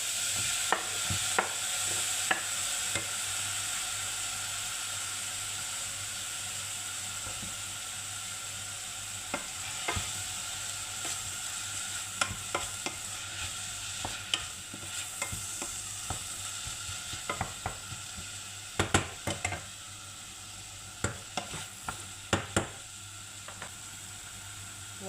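Tomatoes sizzle in a pan for chana dal curry, a soft continuous frying hiss broken by repeated scraping stirs and clicks of a utensil, close and fairly quiet.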